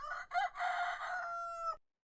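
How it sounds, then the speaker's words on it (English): A dry, up-front rooster sample delivers a single clear cock-a-doodle-doo crow, loud and close, lasting under two seconds before cutting to silence. "For the rooster, this is what I found as just a basic sample on Splice."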